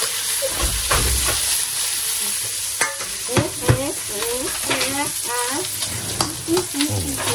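Pork belly stir-fries in a hot pan for kimchi fried rice, a loud close sizzle broken by repeated scraping stirs of a spatula, with no talking.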